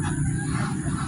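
Geese honking close by in a steady, overlapping chorus of low nasal calls with no pauses.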